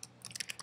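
Quiet, close computer keyboard typing during a shell command-line session, with a quick run of six or seven crisp key clicks after a brief pause.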